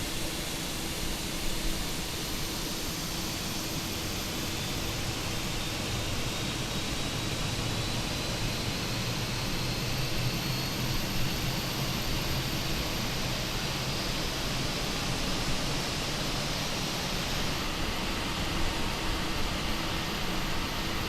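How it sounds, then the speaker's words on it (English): Airliner engines spool up in Microsoft Flight Simulator, a steady broadband roar with a faint rising whine that holds constant and loud throughout, with no talking. "let's start us some engines, shall we?"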